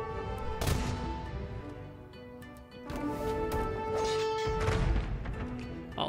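Musketeers exchange gunfire in an Age of Empires II battle, a scatter of short sharp shots popping over busy game music and unit effects, moderately quiet and irregular, with no voices.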